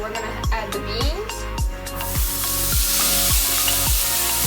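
Beans tipped into a pan of frying garlic for black bean cilantro rice: a hiss of sizzling swells as they go in, with a few stirring scrapes, over steady rhythmic background music.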